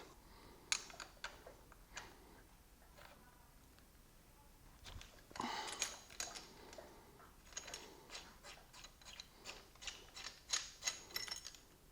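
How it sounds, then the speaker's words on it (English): A nut on the mirror mount of a BMW R1200GS Adventure motorcycle is being unscrewed, giving faint, irregular ratcheting clicks and small metallic ticks that quicken toward the end, close by and quiet. "open this nut. And unscrew the mirror."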